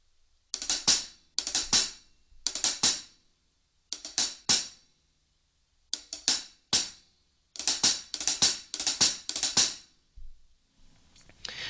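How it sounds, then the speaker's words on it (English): Drum fill played with single strokes throughout, heard as repeated bursts of fast, bright hits with short gaps between them, close and loud, with a quieter passage at the very end. "this is just being played with single strokes all the way through"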